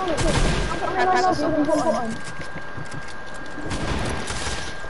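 Video game gunfire crackles in rapid bursts, loud and close, while a player talks excitedly over the shots.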